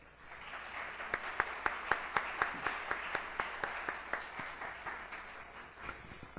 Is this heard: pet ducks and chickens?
no